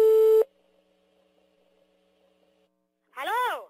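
Telephone tones during dialing on a call: a loud steady beep at the start, then a long quiet hum of the line, followed by a short warbling sweep near the end.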